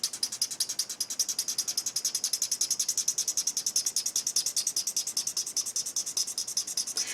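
A Chameleon marker pen scratches rapidly back and forth on paper in a fast, steady rhythm of dry, raspy strokes, close up and fairly quiet.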